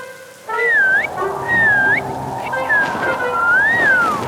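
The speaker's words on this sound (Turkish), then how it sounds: "Rüzgar değil, ıslık." A person whistles a series of sliding, rising-and-falling tones in short phrases, fairly close and clear, over a soft steady background hiss.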